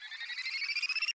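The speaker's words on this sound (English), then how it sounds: "I believe this is the exact same rise effect I found in a Metro Boomin kit just called FX1" A short rising sound effect from a Metro Boomin producer kit, used in a remake of Lil Skies' "KILL 4 U" made in FL Studio: a faint, airy, buzzing sweep that climbs steadily in pitch, pulses quicker toward the end, then cuts off abruptly.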